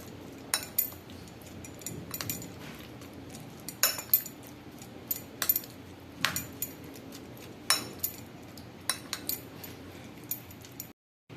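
A spoon stirs tomato (bilati) chutney mixed with green chilies and mustard oil, making faint, irregular metallic clinks against the bowl every second or so in a quiet room.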